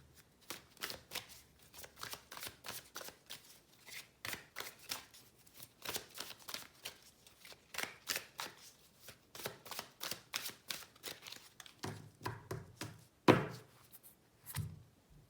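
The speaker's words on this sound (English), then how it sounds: "I shuffle the cards" Tarot cards are shuffled by hand in repeated short riffling bursts, close and fairly quiet, in a steady rhythm for about fifteen seconds, with a soft thump near the end.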